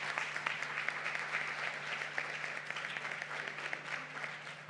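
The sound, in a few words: applause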